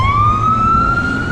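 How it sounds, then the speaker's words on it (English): An ambulance siren sounds loudly nearby as it passes, a single sustained wailing tone that slowly rises in pitch over steady low traffic rumble, with no talk. "Ambulance messing up my video"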